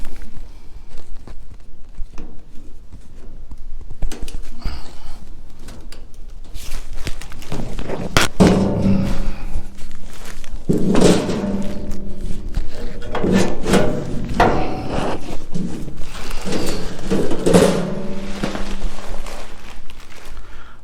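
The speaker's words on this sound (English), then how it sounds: "Right, so now we've got the drawer fully removed from the shelf section." A Tuffy security drawer being worked free of its shelf in a Jeep cargo area: scattered knocks, clunks and sliding scrapes of hard material, close and moderately loud, irregular over about twenty seconds.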